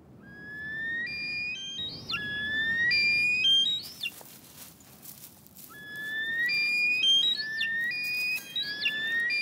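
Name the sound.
snowcocks calling in a song contest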